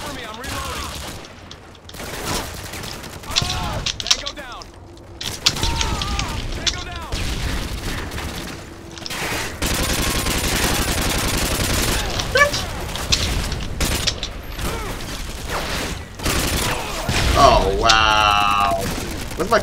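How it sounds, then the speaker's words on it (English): Rapid, loud AK-47 gunfire in the Modern Warfare 2 video game on the Nuketown map, with dense bursts and explosive booms running almost continuously and a voice partly audible in the mix. "AK-47 in your face."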